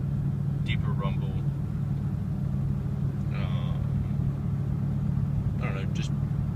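Interior drone of a truck fitted with a Flowmaster Super 44 exhaust, a constant deep low rumble filling the cabin, with someone talking briefly over it.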